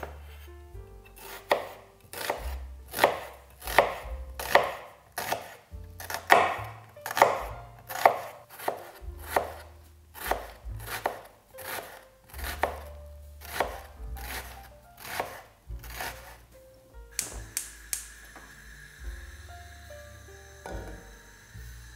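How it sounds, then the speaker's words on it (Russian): A knife dices an onion finely on a cutting board, a long run of sharp, regular chops at a brisk steady rhythm, close and alone, with a brief softer scraping at the end. "Одну луковицу весом приблизительно 110-120 граммов нарезаем мелким кубиком"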